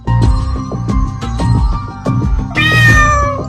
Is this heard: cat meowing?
yes